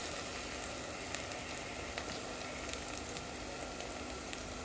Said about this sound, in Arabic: هنزل بشوية زيت، خلاص البصلة بتاعتي احمرت